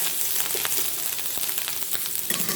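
Mutton moringa soup ingredients sauté in a pan with a steady, close crackling sizzle and faint scraping stirs, and no one speaks.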